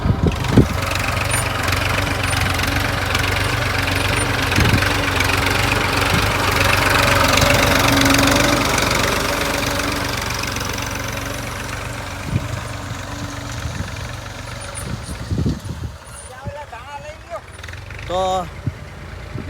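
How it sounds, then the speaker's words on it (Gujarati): A tractor engine runs steadily in a field during coriander sowing, with a low, knocking idle and rumbling vibration, loud and close, with a few higher chirps near the end. "હવે થોડોક ટ્રેક્ટરનો સીન લઈ લઈ તો મિત્રો"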